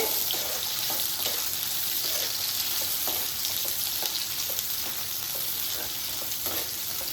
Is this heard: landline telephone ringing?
no